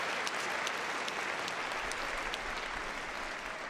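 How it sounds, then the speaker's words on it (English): Crowd at a Crufts gundog display applauds, fairly faint and distant, a steady wash of many hands clapping with a few sharper claps standing out. "give him a big round of applause"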